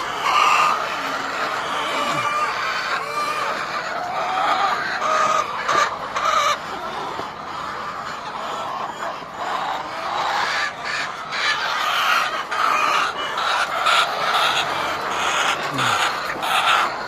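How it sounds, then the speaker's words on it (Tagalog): A flock of hungry laying hens clucking and squawking continuously, fairly close, with occasional louder calls over a busy background of birds. "Pero yung mga manok, gutom na."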